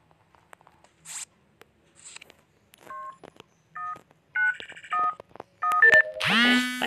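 Telephone keypad tones beep in short bursts, a sequence of dialing tones in an Among Us session, followed by a loud ringing tone near the end.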